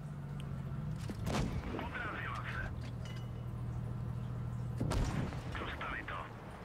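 Two booming tank cannon shots from World of Tanks Blitz, a few seconds apart, over a low engine hum, with someone talking between them.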